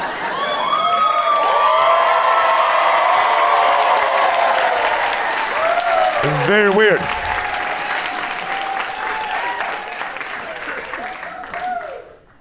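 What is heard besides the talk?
audience clapping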